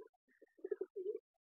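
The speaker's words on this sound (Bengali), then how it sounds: "ওটার ভিতরে একটা কবুতর আছে" A nesting pigeon gives a short, soft cooing call of a few low pulsed notes rolling into a longer throaty coo, close but quiet in a still setting.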